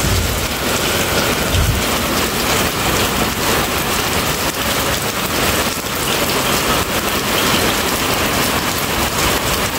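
Heavy first rain of the season pours down in a dense, loud, steady hiss, with a low thunder rumble near the start and no voices.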